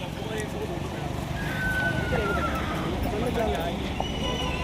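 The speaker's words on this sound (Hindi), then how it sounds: "ओह, इसको देख के घोड़ा आगे आ गया।" At the Pushkar fair, a horse whinnies and its hooves clip-clop amid a busy outdoor crowd with chatter underneath, the neighs standing out clearly over the steady background noise.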